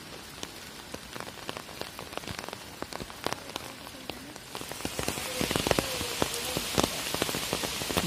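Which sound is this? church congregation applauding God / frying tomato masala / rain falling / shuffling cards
rain falling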